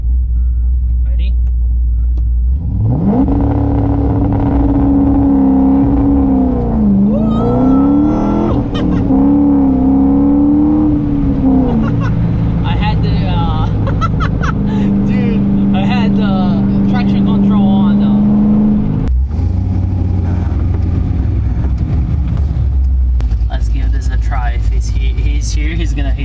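A C6 Corvette V8 sits on 2-step launch control, its engine held loud and steady at the rev limiter near 4,000 rpm. The note wavers up and down between pulses, and people talk nearby.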